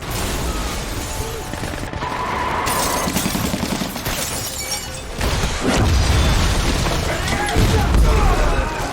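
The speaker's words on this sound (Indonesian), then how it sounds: "dia langsung menembak tentara Bangladesh yang berada di tempat tersebut" A sniper's rifle fires on Bangladeshi soldiers in an action film, with loud repeated gunshot bursts and booming impacts layered over a dense, busy soundtrack.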